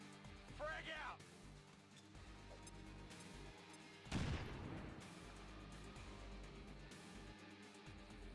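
A frag grenade blast in XCOM 2 Long War of the Chosen, a single sudden boom partway through, layered over game music and effects while a voice talks.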